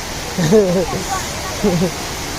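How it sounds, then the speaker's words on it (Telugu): The Kothapalli waterfall produces a steady broadband rush of falling water that fills the background while a person speaks briefly over it. "కొత్తపల్లి కుంతల రాజ్యం యొక్క జలపాతం అనేది"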